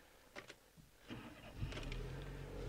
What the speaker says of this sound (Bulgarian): Палиме колата